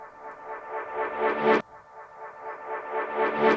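Reversed, frozen Lauryn Hill sample stab with delay, played twice: each swells from a quiet tonal smear into a loud bright peak, then stops abruptly, like a backwards note sucking in.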